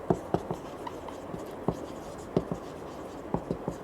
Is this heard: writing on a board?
yes